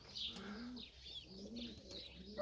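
A pigeon coos softly in a loft, low rolling calls repeated a few times at close range, faint and alone without talk.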